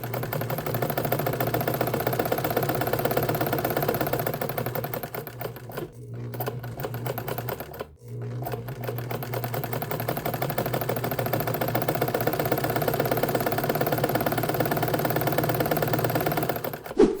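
An old green Vigorelli sewing machine stitches thick synthetic leather, a steady rapid mechanical chatter running almost continuously with two short stops, close and loud.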